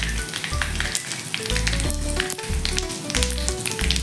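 Asafoetida tempering in hot oil with mustard seeds and cumin, a steady close sizzle and crackle with bursts of low thumping from the pan, no voices.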